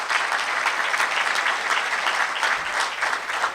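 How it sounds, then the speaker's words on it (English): A crowd applauds police officers and first responders at a City of Chicago public event, steady dense clapping that stays loud and even for its whole length, with no talking over it. "let's give them a round of applause as well"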